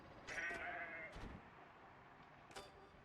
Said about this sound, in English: Oh, there's a goat?